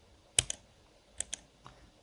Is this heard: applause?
no